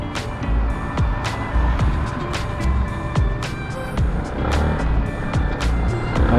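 A Yamaha Sniper 155 motorcycle threads through road traffic, its engine drone mixed with steady surrounding vehicle noise and a few short high chirps, continuous and fairly close, with no talking.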